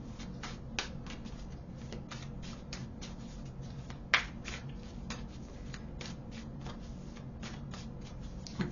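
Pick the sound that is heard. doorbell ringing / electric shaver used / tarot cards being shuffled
tarot cards being shuffled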